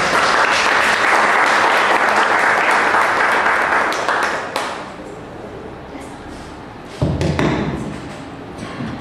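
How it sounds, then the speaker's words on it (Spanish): An audience at a poetry and writers' gathering gives a strong round of applause, loud and dense at first, then tapering off, with a few thuds and a short renewed burst near the end. "Un fuerte aplauso para ella, por favor."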